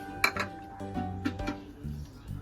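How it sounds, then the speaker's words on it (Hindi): Whole cashews tipped into hot ghee in a pan on low flame give a few sharp clinks and clatters against the metal, followed by faint sizzling. "अब ये काजू डालूंगी मैं।"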